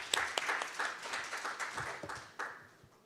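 Scattered applause at a financial crime prevention seminar as a presenter is introduced, a modest round of clapping from a small audience that thins out and fades over about three seconds, with a few louder nearby claps.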